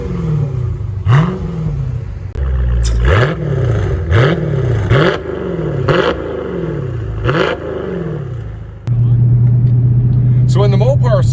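Dodge Challenger or Charger V8 with a mid muffler delete, the exhaust blipped through a series of about six deep, throaty revs that rise and fall rhythmically, loud and close, then settling to a steady idle drone.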